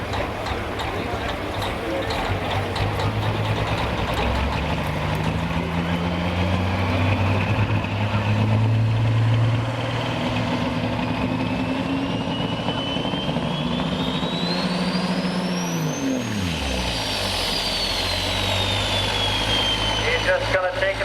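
Diesel truck at a pulling competition, its engine and turbocharger roaring steadily, with rising and falling whine and a deep rumble that drops off near the end, while an announcer talks over the din.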